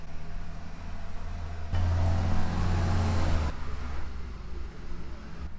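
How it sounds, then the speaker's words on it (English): A heavy truck rumbles past on a road outside a welding workshop, swelling into a loud, broad roar for a couple of seconds before fading back to a low traffic hum. "Wait for a loud truck to pass by."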